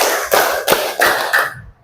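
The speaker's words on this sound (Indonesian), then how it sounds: "yuk tepuk 1, tepuk 2, tepuk 3" A class clapping routine, four spaced bursts of hands clapping together in a group, loud and close, followed by a short quiet tail.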